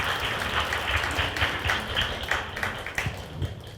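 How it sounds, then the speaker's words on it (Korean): Audience applause at a book-launch concert and author meeting, a steady wash of many hands clapping throughout, moderately loud and continuous with a few sharper claps standing out near the end. "수고해주신 회장 신부님께 다시 한번 큰 박수 부탁드리겠습니다"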